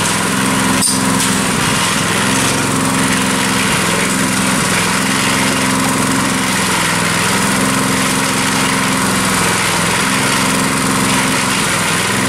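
A cement mixer turning a batch of rock, cement and sand runs loud and steady nearby, a continuous engine drone with churning rumble throughout.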